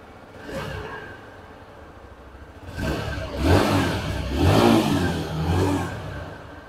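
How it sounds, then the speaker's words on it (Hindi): A TVS Sport motorcycle exhaust revs in several throaty bursts, rising and falling close by, after a brief quieter idle. "जो इसका एग्जॉस्ट मोड है वो भी आप सुन सकते हैं"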